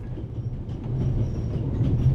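A train runs along its rails in the game The Raven, a low steady rumble with a soft rhythmic rolling that grows slightly louder toward the end, no talk.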